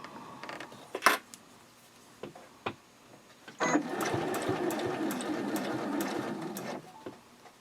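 A home sewing machine runs in a steady whirring burst as it stitches fabric for a small pouch, preceded by a few scattered clicks and clunks of handling. The machine is close and clear, with no talking.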